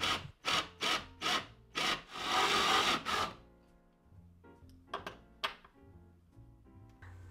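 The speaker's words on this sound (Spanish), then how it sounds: "Utiliza un taladro para crear un círculo en la madera." A drill bores a circular hole in wood with a series of rough, grinding bursts, close and fairly quiet, followed by lighter scraping and tapping.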